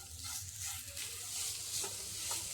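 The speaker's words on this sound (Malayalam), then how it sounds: "ഇനി നമുക്കിതെല്ലാം കൂടി ഒന്ന് നന്നായിട്ട് മിക്സ് ചെയ്ത് കുറച്ച് സമയം ഇളക്കി കൊടുക്കാം." Jaggery mixture with coconut and banana stirred in a pan for Kerala wheat ada, giving a continuous soft sizzle with faint scraping stirs throughout.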